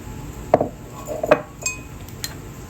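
Two clear clinks of a metal spoon against a dish as brown sugar goes into the mixture for caramelized bacon, followed by a couple of fainter taps, close and quiet with no talking.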